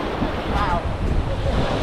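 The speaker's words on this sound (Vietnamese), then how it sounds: "sóng lớn đấy" Big ocean waves break and roll on a beach in East Timor, a steady loud roar of surf mixed with wind buffeting the microphone, with no break in the wash.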